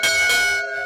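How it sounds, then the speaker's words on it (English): A chapel bell built after World War II rings out loud and close in a short burst, two quick strikes leaving a bright, sustained metallic hum that fades toward the end, with no voices. "And the bell works."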